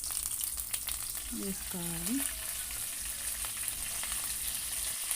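Oil sizzles steadily and loudly with a tempering of seeds, crushed garlic, three dried red chillies and curry leaves; someone speaks briefly over the frying.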